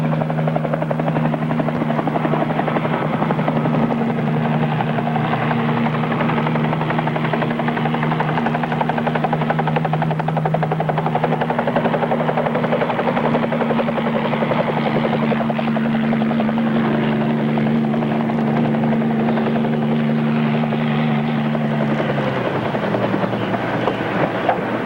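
Helicopter rotor and engine drone steadily and loudly throughout, with a sustained low pitched whine that drops in pitch near the end as the machine powers down.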